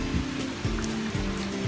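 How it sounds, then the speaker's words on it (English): Rain falling on a Monday in Charlotte, a steady close hiss with a faint low hum and soft irregular thuds underneath. "so it's nice to get some rain for a little bit"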